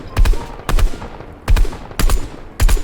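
Gunfire in the video game Fortnite: five loud, sharp bursts of shots spaced roughly half a second apart, each with a punchy low thump and a quick decaying tail, no talking.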